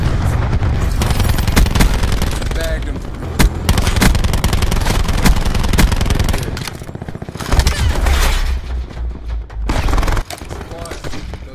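Cluster grenade explosions in Call of Duty Mobile team deathmatch land among loud, continuous gunfire, rapid booms and machine-gun bursts that keep crackling across the whole stretch with brief dips, with game voices talking over the combat.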